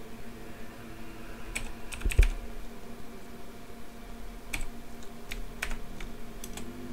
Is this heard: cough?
no